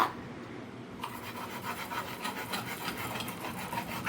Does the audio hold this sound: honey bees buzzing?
no